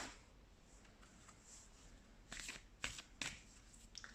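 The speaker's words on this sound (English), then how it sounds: "Let's pull some more cards." Tarot cards pulled from a deck during a card reading, a soft papery riffle followed by a few crisp snapping flicks near the end, quiet and close with no talking.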